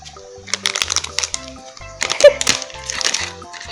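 A plastic zip-lock bag crinkles and rattles in bursts as rose seeds are dropped in, close to the microphone, while a voice talks over it.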